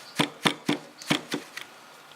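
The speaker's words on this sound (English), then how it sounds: "Again, give it a good bash." A bag of homemade pesto ingredients is bashed with six firm, close thuds in a fast, uneven rhythm, the last two lighter, with no talking.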